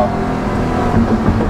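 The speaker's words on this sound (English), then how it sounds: "it can definitely use that low-end torque to great effect coming through a corner like that" A 2020 Chevrolet Corvette Stingray 1LT Convertible powering through a corner: a loud, steady engine roar that rises slightly, heard close and alone for about a second and a half.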